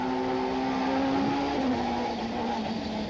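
Onboard engine of the BP Nissan Sentra super touring car racing at Killarney in 1995: a steady, loud high-revving drone with a slight dip and recovery in pitch partway through, constant and close throughout.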